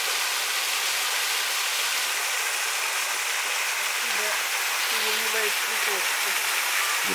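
A waterfall at a healing spring sends out a steady broadband rush of falling water that holds even throughout, with a few faint voices briefly audible near the end.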